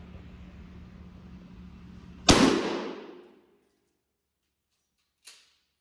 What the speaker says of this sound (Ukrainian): Стріляти будемо дріб'ю з відстані 25 метрів